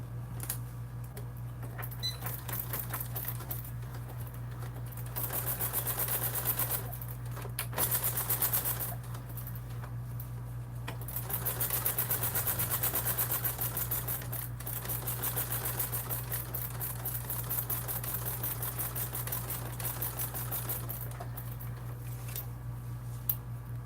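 A sewing machine stitches over a section of a Swoon Maisie bag in fast, even needle rattles. The bursts run for several seconds, separated by short pauses, over a low steady hum.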